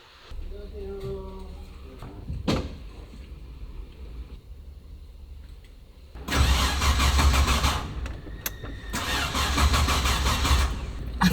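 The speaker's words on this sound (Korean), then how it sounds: "갑자기 시동이 안 걸리는 거예요." A car engine cranks repeatedly without catching, a struggling starter noise that turns loud and sustained in bursts, heard up close with a person talking nearby in Korean.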